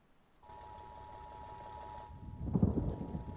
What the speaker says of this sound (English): there seems to be another storm